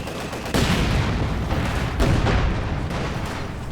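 Dushka heavy machine gun on an IS-2 tank in the strategy game Company of Heroes 2, firing loud sustained bursts of battle noise with booming impacts layered over the gunfire and no voices.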